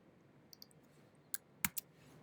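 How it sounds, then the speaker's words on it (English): A computer mouse clicks in animation software: a few faint taps, then a sharp double click standing out clearly above a quiet background hiss. "I'm just gonna double click the button"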